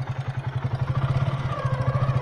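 A motorcycle rides through Mangaldai town, its engine giving a steady, close, rhythmic low putter that pulses evenly throughout with no talk over it.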